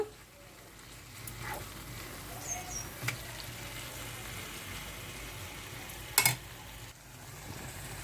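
Bocchu fish coated in onion masala fries in a pan with a faint, steady sizzle. A brief clatter of a utensil comes partway through, and no one speaks.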